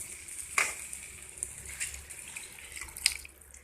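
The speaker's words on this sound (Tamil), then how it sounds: "3 கப் தண்ணியை இதுல சேர்த்து நார்த்தங்காயை நல்லா வேக வைக்க போறோம்" Water is poured into a pan of sautéed citron pickle, making a faint splashing and trickling with a light sizzle and a couple of sharp clinks from the pan.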